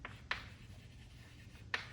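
A marker or chalk taps against a board twice while a tangent line is drawn on electric field lines, two short, close strokes separated by quiet room tone.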